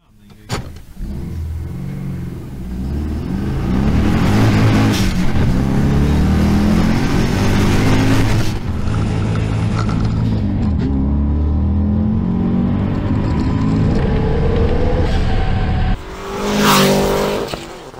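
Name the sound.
modified Volkswagen Beetle engine revving and driving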